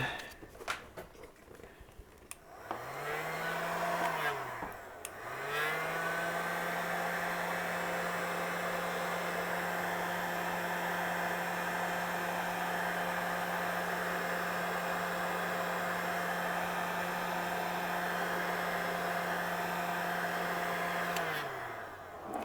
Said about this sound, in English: Then I need a heater gun.